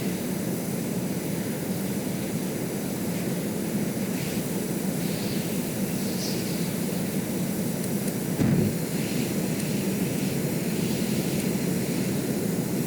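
Aircraft engine from the video game Stormworks, a steady broadband drone holding at constant loudness for the whole stretch with a brief louder burst near the end, no talk.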